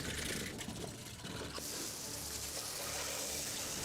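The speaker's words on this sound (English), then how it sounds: "High-pressure water blasts away the last remnants of its former decay." A high-pressure water jet blasts a stripped Royal Enfield Classic Bullet motorcycle frame during a rebuild, making a loud, continuous broadband hiss that grows brighter partway through, with no talking.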